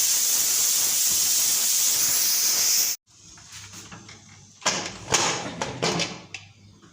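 A pressure cooker of beef lets out a loud, steady hiss of steam as its weight is lifted, cutting off abruptly after about three seconds, followed by quieter clatters and handling noises.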